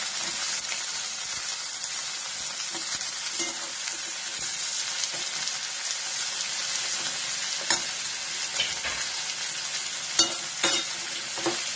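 Chopped capsicum (shimla mirchi) is fried with onion in a pan, making a steady close sizzle broken by scraping and clattering from stirring, with sharper knocks near the end and no speech.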